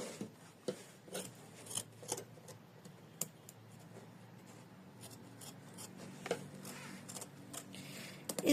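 Scissors snip at an embroidered in-the-hoop cross bookmark with a Christmas design, giving quiet, close, irregular cuts and rasping clicks against a faint background.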